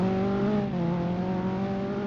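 An LMP1 prototype race car engine in a Le Mans endurance racing video game drones at a steady high pitch, loud and continuous with no voices.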